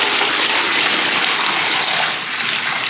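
Sun-warmed water pours steadily into a shallow bath for pet pigeons, a loud continuous gushing splash close by that eases slightly toward the end, with no voices.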